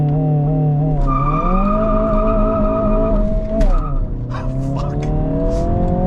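A 250 hp Honda Civic Si skids on a road, its tires letting out long, loud squeals that bend in pitch over the steady engine note, then trail off into rough road noise.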